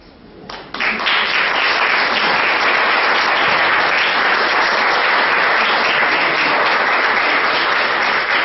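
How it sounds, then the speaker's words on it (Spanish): Dense, sustained applause from a live audience at a literary reading honoring Armando Vega Gil, swelling in after a brief quieter moment and then holding steady and loud for the rest of the stretch. "Para despedir a Armando, por favor, un aplauso un poco más."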